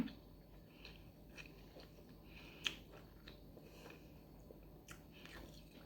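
Someone eats steamed fish, with soft, close chewing and biting sounds repeating through a quiet room, including one sharper crunch partway through; no talking.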